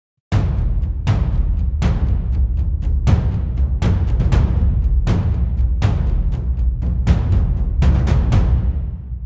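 Heavy, booming drum hits repeat steadily at a moderate pace, loud and close, with a few quicker hits squeezed in toward the end as a fill leading into the next section.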